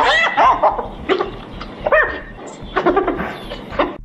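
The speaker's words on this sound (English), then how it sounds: "what noise does a hyena make? This is a hyena." A series of high, whooping and yipping animal calls rises and falls in quick bursts, resembling a hyena's giggling cries.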